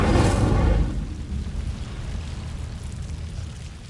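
An Incendio fire spell cast in Hogwarts Legacy lets out a loud fiery whoosh and burst that fades into a steady low roaring crackle of flames.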